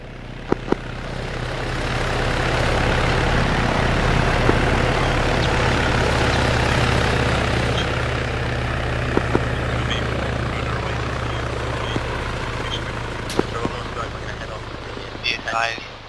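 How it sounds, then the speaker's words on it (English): A helicopter in Arma 3 approaches with a steady, loud rotor and engine drone that builds and holds throughout, while radio chatter and voices talk over it and a few sharp clicks cut through. "Where's that heli coming in?"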